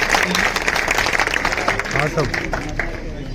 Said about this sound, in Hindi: जोरदार तालियों की गड़गड़ाहट के साथ में इनका हार्दिक स्वागत